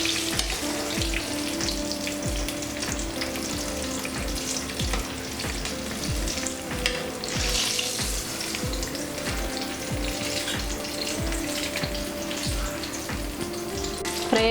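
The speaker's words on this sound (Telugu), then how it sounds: "ఈ గోల్డెన్ బ్రౌన్ వచ్చే వరకు ఫ్రై చేసుకోవాలి." Mirchi bajji, chili fritters, deep-fry in hot oil with a dense, continuous bubbling sizzle that stays close and even throughout, with no voices.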